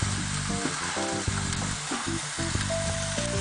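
Food browning in a hot pan, a continuous close sizzle and crackle of frying with occasional clinks and stirring sounds, loud and steady with no talking.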